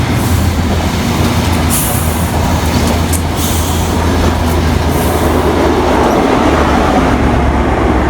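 An InterCity 125 high speed train, an Inter7City set with power cars 43032 and 43028, passes through Edinburgh Haymarket station, a loud continuous rumble of wheels and diesel drone with brief hissing bursts, close and unbroken.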